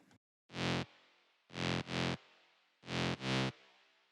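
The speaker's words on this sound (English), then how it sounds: "And then I also have a low synth" A low, buzzy synthesizer in a future bass drop plays short sustained notes in a pattern of one, then two, then two, each cut off cleanly with silence between.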